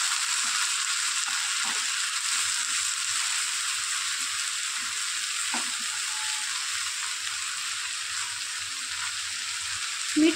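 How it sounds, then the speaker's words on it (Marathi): Tomato puree hits a hot pan for a prawn cashew curry, giving a loud, steady hiss and sizzle that holds evenly throughout, close and continuous with faint clinks underneath. "टोमॅटोची प्युरी घालते लगेच।"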